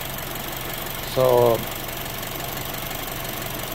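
A BMW N20 engine in good running order idles smoothly at a steady, moderate level, with one short spoken word partway through.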